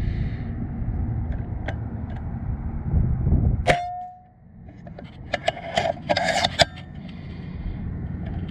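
A Snowpeak M60B air rifle fires an NSA 17.5 grain slug in wind: one sharp, close report with a ringing metallic tail, then a scatter of smaller clicks and clatter over low wind rumble.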